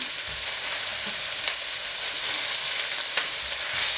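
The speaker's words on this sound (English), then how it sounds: "Give that a quick stir." Lamb mince and salt frying over high gas in a pan, a loud steady hiss of sizzling with faint stirring scrapes close by and no talk.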